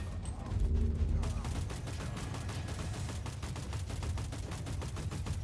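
Gunfire rattles in the Warhammer 40,000: Inquisitor video game, with rapid, steady bursts of shots after an opening low thump, heard fairly quiet and continuous throughout.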